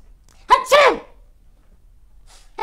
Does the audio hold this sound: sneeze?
yes